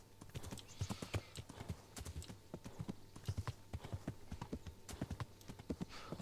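Horse hooves clip-clop steadily in the medieval game Kingdom Come: Deliverance, a brisk, even rhythm of hoof strikes running the whole time, close and clear over a faint ambient bed.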